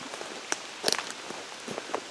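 Rain falls in the woods, scattered drops pattering and tapping on leaves and ground in irregular close hits, with a slightly louder cluster midway, quiet overall.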